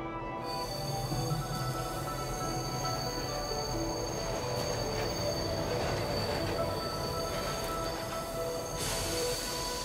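A train in the game Bright Paw rolls along with a loud, continuous metallic squeal of wheels over a rumbling, rattling body noise, shifting slightly in pitch and staying close and prominent throughout with no talking.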